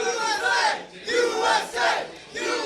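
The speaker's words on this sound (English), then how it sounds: "can we get a USA cheer for Liquid?" A large crowd at The International 3 esports event chants "USA" in loud, rhythmic bursts, each shout swelling and fading with short pauses between.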